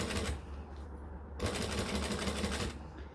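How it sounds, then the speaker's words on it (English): A sewing machine stitches a lining seam at normal stitch length, giving a steady fast whirring chatter that briefly pauses and then resumes. It sounds close and moderately quiet, with no talking. "I'm actually just going to sew with a normal sewing stitch length my seam allowance"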